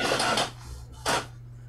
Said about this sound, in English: Sounds like a printer.